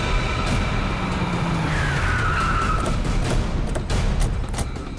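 A car drives up close with a loud engine and skidding tyres, a steady rushing roar with a brief squeal partway through, and no talking.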